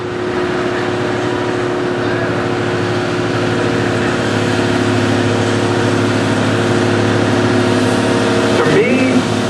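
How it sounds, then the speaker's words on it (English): A pulling tractor's engine runs at a steady loud drone at an outdoor tractor and truck pulling event in Langford, New York, with a brief rising whine near the end. "Keep your eye on this tractor, ladies and gentlemen. This tractor runs."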